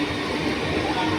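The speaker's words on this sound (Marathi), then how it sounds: "लोकल आज प्लॅटफॉर्म क्रमांक 3 वर आलेली लोकल 3 वाजून 18" A Mumbai local train stands at the station platform, giving a steady, dense rumble with faint voices mixed into the station din.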